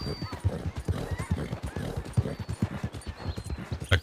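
Horse hooves in a video game cart race, a quick steady clip-clop of galloping beats throughout with occasional faint whinnies.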